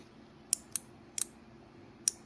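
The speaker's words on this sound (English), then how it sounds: "what we're looking for first, or listening for, is just for the solenoid to click" The EGR solenoid from a 2002 Mitsubishi Eclipse 3.0 is powered on the bench and gives sharp, crisp clicks, five or six irregularly spaced snaps over a quiet low hum.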